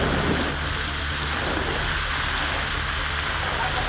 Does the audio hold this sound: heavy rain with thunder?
yes